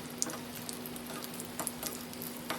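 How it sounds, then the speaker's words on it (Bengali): Potato chops (aloor chop) deep-frying in oil, a soft steady sizzle with scattered faint pops and crackles, quiet and close with no talk. "প্রথমে হাই হিট দিয়ে ভাজতে হবে, পরে লো ফ্লেমে দিতে হবে। এভাবে আমি সব চপ ভেজে নিলাম।"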